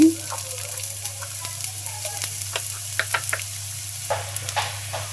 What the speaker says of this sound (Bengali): আমি পেঁয়াজ দিয়ে দিচ্ছি